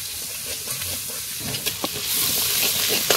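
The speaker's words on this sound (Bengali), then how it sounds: "হালকা একটু ভেজে নিয়েছি" Grated ginger, chopped onion, panch phoron spices, turmeric and salt lightly frying in a pan for dal, a steady soft sizzle with a few stirring scrapes, close and fairly quiet, with no talk.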